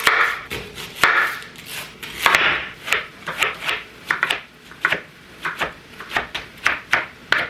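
A knife taps rapidly on a wooden board mincing garlic in quick uneven bursts of chopping, close and crisp, with no talking.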